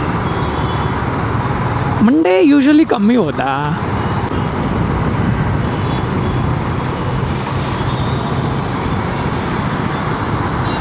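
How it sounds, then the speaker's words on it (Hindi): Steady road traffic on an evening commute home from the office, a constant engine and tire roar filling the scene, with someone speaking briefly over it early on. "या अभी थोड़ा कम हो गया ट्रैफिक"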